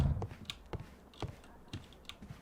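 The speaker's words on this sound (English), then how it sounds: "Typing, typing, typing." Keyboard typing in a Sherlock Holmes detective game, a sparse run of distinct key clicks spaced irregularly, quiet and close, with no talk.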